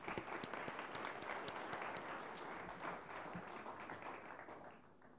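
Audience applause for a government minister after his keynote at a science policy conference, steady dense clapping with a few sharp individual claps, holding at moderate level before easing slightly toward the end.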